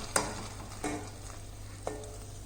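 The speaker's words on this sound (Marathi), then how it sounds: "आता चांगल्याला लालसर होईपर्यंत आपण तळून घेणार आहोत" Rice flour batter dropped into hot oil to fry into crispy pakoras gives three separate brief sizzling splashes over a low steady hiss, with no voices.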